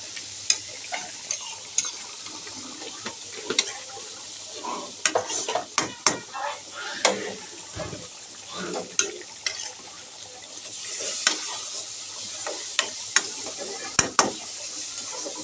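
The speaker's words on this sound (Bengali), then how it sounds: "এখন আমি একটু কষিয়ে নেব আলুটা, পরে একটু জল দেব।" Potatoes fry in a pan for a curry while being stirred, giving a steady close sizzle broken by irregular scraping and clinking strokes of the spoon.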